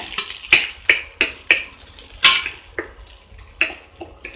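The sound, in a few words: capsicum and onion sautéing in butter in a pan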